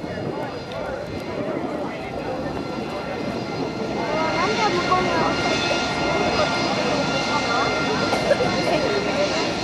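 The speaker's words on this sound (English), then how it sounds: "AV-8 Harrier" An AV-8B Harrier II jet flies a demonstration at the 2006 MCAS Miramar airshow, giving a continuous loud jet roar that swells slightly midway, with an announcer talking over it.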